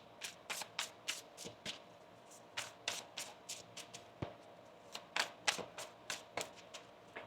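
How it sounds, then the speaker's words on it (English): Tarot cards shuffled by hand in repeated quick riffling bursts, close and fairly quiet, with short pauses between them and no talking. "One more shuffle here."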